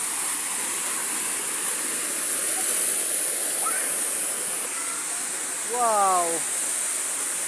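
Rushing water from Busay waterfall, a steady broadband roar holding through the whole stretch, with a man briefly exclaiming and a bird's chirps cutting in near the end.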